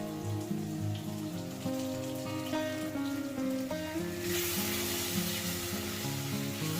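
Spice powders (turmeric, chili, Kashmiri chili, mutton masala, coriander) sizzling in hot oil for egg gravy, a steady crackling fry heard under a music background, continuous and moderately loud.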